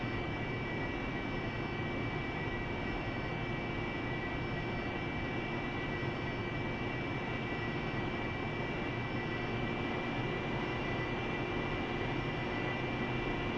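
An AV-8B Harrier jet engine runs during a cold start, giving a continuous, loud, broadband roar with steady whining tones layered on top. The level stays even throughout, with no voices.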